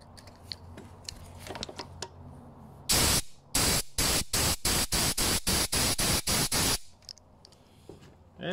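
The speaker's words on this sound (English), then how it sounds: "Let's help it through with a little bit of compressed air." Compressed air blasts through the orifices of a carburetor from a gas jumping-jack compactor: one loud, close hiss, then about ten rapid, evenly spaced short bursts, with a quieter background before and after.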